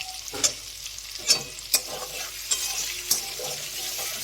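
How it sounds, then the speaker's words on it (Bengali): Red chili powder fries in hot oil with a continuous sizzle, while a spoon stirs it in several sharp scrapes and taps against the pan, close up. "এবার এর উপর দিয়ে দিচ্ছি একটু লাল লঙ্কা গুঁড়ো তেলের মধ্যে"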